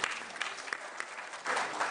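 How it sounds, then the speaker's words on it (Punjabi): An audience at an international Punjabi conference claps, a brief burst of moderately distant applause that swells slightly near the end. "ਤਾਲੀਆਂ ਜੀ"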